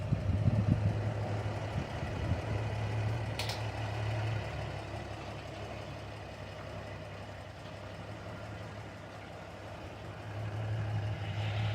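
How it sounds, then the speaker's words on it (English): A truck engine idles steadily, its low rumble holding even throughout with a brief rise as the RPMs are raised by hand throttle, close and continuous with no talk. "So I'm going to crank it out until we just hear a pickup in RPMs"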